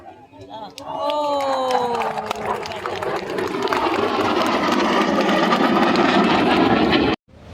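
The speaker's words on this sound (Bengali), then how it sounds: "শক্তিশালী দুটি RE-33 ইঞ্জিনের সর্বোচ্চ শক্তি ব্যবহার করে এবং বিমানের গতি নিয়ন্ত্রণ করে সর্বোচ্চ টার্ন পারফরম্যান্স প্রদর্শন করছে" A Bangladesh Air Force MiG-29 fighter jet with twin RE-33 engines at full power during a turning manoeuvre at an Independence Day air show: a loud, sustained roar with a falling whine that cuts off abruptly near the end.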